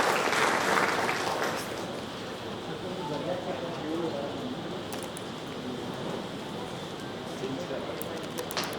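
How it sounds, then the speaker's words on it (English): An audience at an HR conference claps in a loud burst that settles into a steadier, softer patter of applause lasting several seconds, with a few faint voices mixed in. "Please give a big round of applause for Mr. Rajesh Vaidya."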